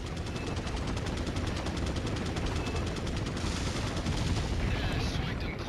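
Gunfire in the Resident Evil 4 video game rattles off as a rapid, steady stream of shots for several seconds, fairly quiet and continuous, then gives way to a brief burst of other game noise.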